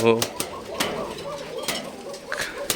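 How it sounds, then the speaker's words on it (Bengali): White pigeons kept in a cage give a few low, soft coos near the start. Scattered bird calls and short clicks or wing sounds follow over a faint room background. "এই খাঁচাতে এগুলো হচ্ছে আমার সাদা কোকা কবুতর"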